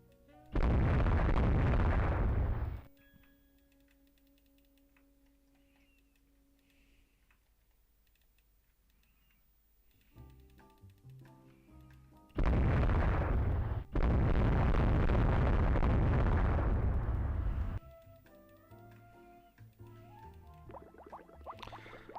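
Naval gunfire and torpedo hit explosions in the warship video game Rule The Waves 3: two loud, sustained booming blasts separated by quiet stretches of faint ticking and tonal game sounds.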